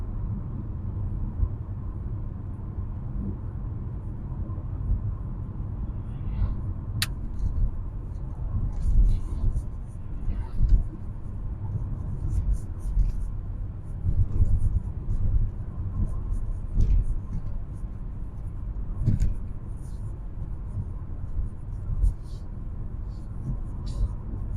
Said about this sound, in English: You can hear a little bit of tyre noise